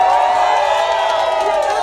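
A dense, loud crowd at a Duterte rally in Calgary roars, applauds and cheers continuously, many voices blending into one steady wall of sound with no pauses.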